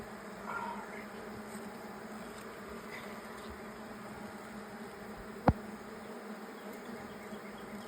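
Honey bees at an open hive, a faint continuous buzzing drone in the background with one sharp click partway through; no voices.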